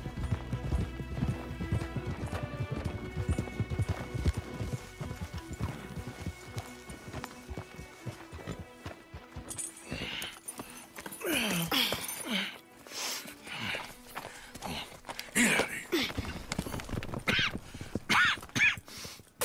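Hooves clip-clop in a steady trotting rhythm over a musical score in Red Dead Redemption 2, with horses snorting and whinnying as the hoofbeats grow louder and more cluttered.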